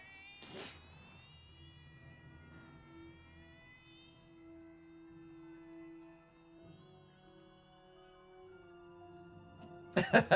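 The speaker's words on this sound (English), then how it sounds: "They're winding up the cat's tail and it's letting out a scream." A cat lets out a long, drawn-out scream that wavers and slowly sinks in pitch, fairly faint, followed by a short noisy burst at the end.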